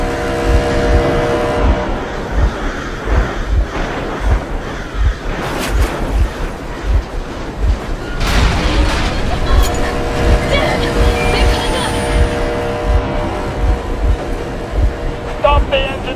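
A vehicle engine runs steadily and loudly in Metro Exodus, a rough continuous drone with bursts of rumble and clatter, with voices over it.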